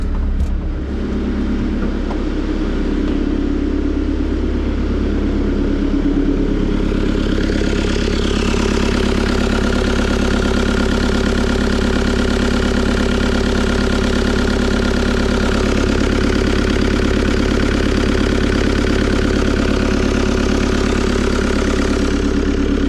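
The engine of a Cat 299D compact track loader idles loudly and close by, a steady heavy rumble with a slight rise in pitch partway through as it settles. It runs alone without speech.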